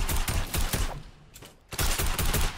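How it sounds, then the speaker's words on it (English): Rapid automatic gunfire in Fortnite's John Wick mode, loud close bursts of shots in quick succession, with a brief lull before another long burst. "I'm getting shot from behind down below."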